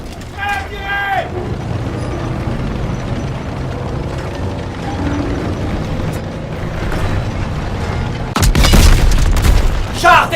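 A tank gun fires in a World War II battle scene, a loud deep blast with a rumbling tail near the end, following a stretch of low mechanical rumble and noise with shouted voices early on.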